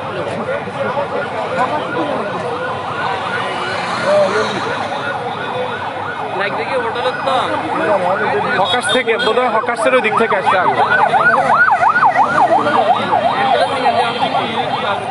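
Fire engine siren at a large fire in Maijdee town, Noakhali, wailing in a rising and falling pattern over steady crowd noise, growing louder in the second half while people talk nearby.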